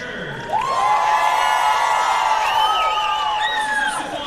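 Crowd at a Class A boys high school state basketball tournament game between the Vermillion Tanagers and Sioux Falls Christian Chargers cheers and whoops in a steady, loud gym roar with high shouts rising above it.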